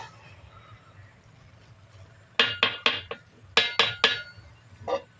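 A metal lid lifted off a pot of khas-rice pulao sets off two quick clusters of close, sharp clinks and rattles, then one last softer clink, over a quiet kitchen hum with no talking.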